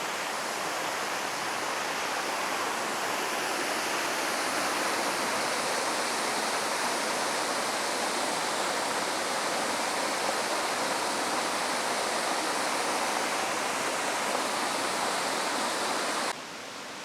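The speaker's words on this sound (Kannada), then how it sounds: "ಸೊ ಇದೇ ನೋಡಿ ಕ್ರಾಂಕ್ಷುರಿ ವಾಟರ್ ಫಾಲ್ಸ್." Krangshuri waterfall pours in a steady, loud roar of rushing water, a constant broadband wash that fills the whole stretch without pause and cuts off abruptly at the very end.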